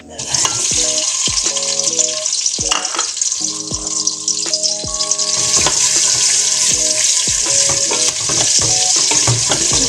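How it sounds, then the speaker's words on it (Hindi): Onion frying in half a cup of hot oil sizzles loudly and steadily while a utensil clinks and scrapes against the pan in repeated strokes, close up with no talk. "अब ऑयल डालते हैं आधा कप।"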